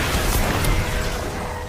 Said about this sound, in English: Massive explosion.